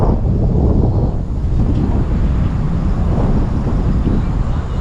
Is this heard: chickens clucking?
no